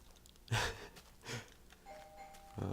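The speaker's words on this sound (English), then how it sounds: "Oh, that's the doorbell." A doorbell chimes quietly in the background of a video game, with a couple of soft thumps and breathy noises around it.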